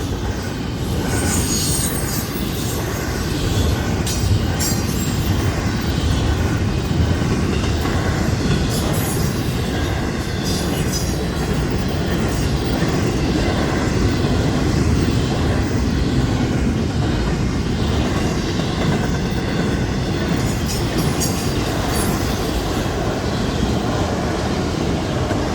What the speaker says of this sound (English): that train's pulling out of Smyrna